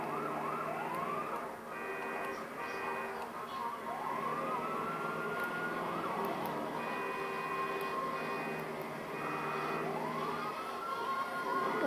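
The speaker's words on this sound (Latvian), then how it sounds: "Es ar sirēnām braucu." Ambulance siren heard while driving in an ambulance game, a steady, loud wailing that sweeps up and down in repeated cycles, overlapping with a second two-tone siren pattern throughout.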